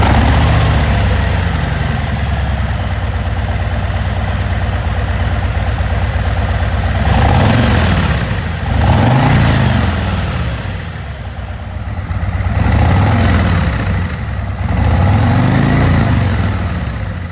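A Harley motorcycle engine with stock factory mufflers idles close by, a steady low rumbling loping beat that swells slightly as the throttle is blipped a few times.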